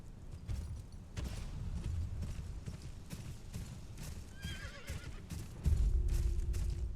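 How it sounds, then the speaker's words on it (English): Horse in the Game of Thrones Kingsroad video game whinnies in a rising, wavering call midway, with steady clip-clop hooves throughout and a louder rumbling gallop near the end. "it was nice to be able to summon my horse at will"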